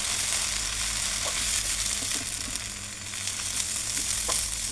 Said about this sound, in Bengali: পোলাও চালটা যত বেশি সুন্দর করে ভাজা হবে তত বেশি বিরিয়ানিটা ঝরঝরা হবে